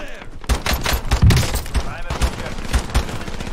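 Rapid gunfire in an online shooter video game, an enemy firing down from a rooftop, dense bursts of loud automatic shots crackling continuously through the moment with voices mixed in.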